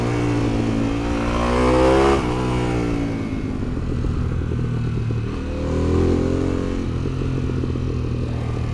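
A Harley-Davidson Pan America Special on the road, its engine droning loud and steady with two swells of revving acceleration and a rough, throbbing exhaust beneath wind noise.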